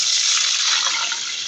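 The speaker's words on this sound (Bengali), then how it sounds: "এখন আমি অল্প একটু পানি দিয়ে দিব" A little water is poured onto fried onions in a hot pan, giving a short, loud, steady hissing rush that stays even throughout without any talking.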